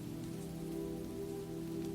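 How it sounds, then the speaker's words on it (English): Steady rain falling over slate roofs and pointed castle towers, a constant, even patter with no voices. "Only the rain remained. It fell steadily over the slate roofs and the pointed towers"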